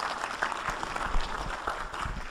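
Audience at a State Department business opportunities conference clapping, a dense steady burst of applause from a crowd filling the room, brief and even.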